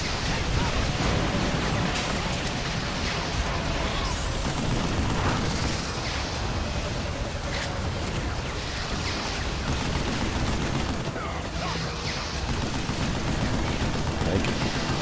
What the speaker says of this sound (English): It's a rocket launcher.